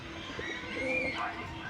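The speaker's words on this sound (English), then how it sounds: "lots of pigeons in there" Pigeons coo softly inside a dark old windmill pigeon coop, a low steady murmur of several birds close by, with some faint chirps and a person talking quietly in the background.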